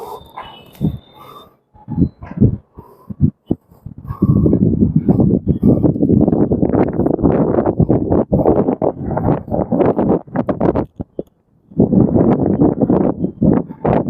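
Strong wind blowing across the hilltop at Thiruparankundram, loud gusty roaring buffeting the microphone almost continuously, with short calmer gaps and a few early knocks.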